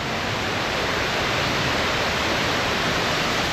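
Constant, dense rushing of falling water fills the clip at a steady level with no other sounds.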